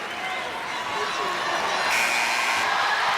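Arena crowd at a UConn versus Arkansas State NCAA women's basketball game applauding and cheering for Caroline Ducharme, a broad, steady roar of clapping that swells partway through under a commentator's voice.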